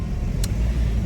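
Inside a moving car without air conditioning, a loud, steady low road and engine rumble fills the cabin, with one brief hiss partway through.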